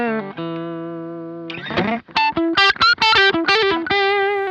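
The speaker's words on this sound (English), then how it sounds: "So the volume on the guitar is around 2" Electric guitar with the volume knob turned down to about 2, run through a Kemper Marshall amp profile: a held chord rings out, then choppy, gritty riffing with clear bite, played alone.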